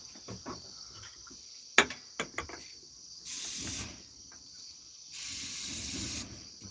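Cooking spray hisses from a can onto a charcoal grill in two sustained bursts of about a second each, with a few scattered clicks and knocks before them.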